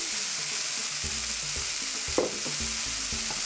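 Frozen petite peas sauté with shallots in a pan for a pea coulis, a steady close sizzle with a few stirring scrapes and one brief louder clatter, no voices.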